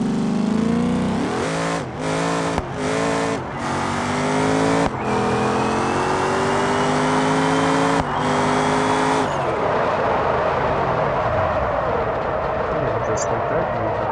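A drag car in BeamNG.drive, running nitrous, accelerates hard. Its loud engine climbs through several gear changes with brief shift breaks, then drops to a rougher roar, and a voice talks over parts of it.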